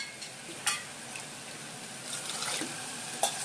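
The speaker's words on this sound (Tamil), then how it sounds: "தண்ணி ஊற்றிடலாம்." Water poured into a pot of rice and lentils for spinach rice, a soft, faint splashing and trickling with a few brief louder spills near the start and end, no voices.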